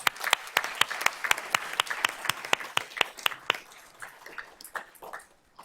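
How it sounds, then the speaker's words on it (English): Audience applause at a school board of trustees meeting honoring a student golfer, with sharp distinct claps from a small group, close and steady for about four seconds before thinning into scattered claps. "Let's give Isabella a round of applause"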